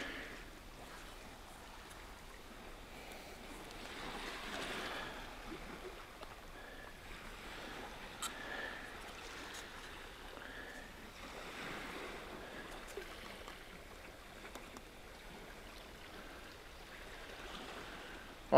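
Sea waves wash and break along the rocky Anglesey coast, a steady surging roar with slow swells rising and falling over about eighteen seconds, touched by light wind noise and no voices.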